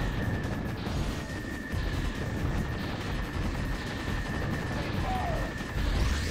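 Dense, chaotic explosions from falling bombs in the arcade shooter Heavy Weapon: Atomic Tank, a steady low rumbling barrage with a thin sustained tone running over it and no clear breaks.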